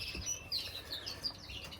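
Small birds chirp and tweet in an indoor bird room used for breeding. The high, quick calls overlap and come out fairly soft.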